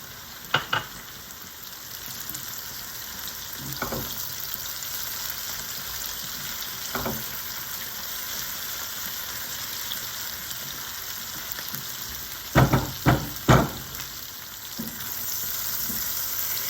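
Onions frying in oil for cebolada, a steady close sizzle running throughout, with a few sharp stirring scrapes and clatters near the start and a cluster of louder ones toward the end.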